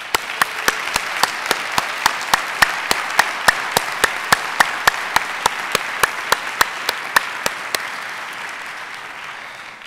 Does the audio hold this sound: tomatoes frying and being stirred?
no